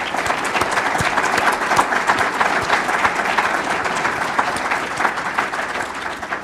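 An audience at a Jewish Christian Muslim interfaith dialogue applauds Doug Kinchy, director of the Kaufman Interfaith Institute, with loud, sustained, evenly dense clapping from many hands, close and continuous throughout with no voices on top.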